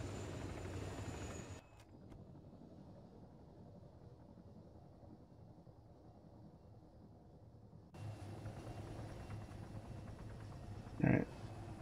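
Helicopter in the game Arma 3, a steady low rotor and engine drone that thins out midway and then returns, with a person talking over it and a brief sharp sound near the end.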